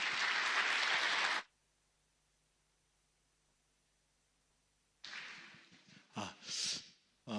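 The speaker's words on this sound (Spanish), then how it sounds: "Vamos a recibir con fuertes aplausos" A congregation at a Christian leaders' congress applauds to welcome a Good News Mission minister from Peru: a short, dense burst, a stretch of near silence, then a second, more uneven round of clapping.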